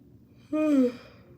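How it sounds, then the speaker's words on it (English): A single drawn-out yawn-like exhalation, voiced and sliding downward in pitch, lasting about half a second over a quiet background. "ooh, I got a yawn coming."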